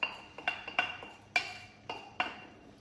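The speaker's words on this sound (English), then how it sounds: "I'm just going to give that a good stir through" A spoon clinks and scrapes in a pan of chicken, bacon and cheese over low heat, giving about six sharp metallic taps in an uneven rhythm against a quiet background.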